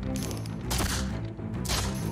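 Pistol and cannon fire from the pirate video game Set Sail: two heavy, booming blasts ring out over a dense, continuous battle din, loud and close.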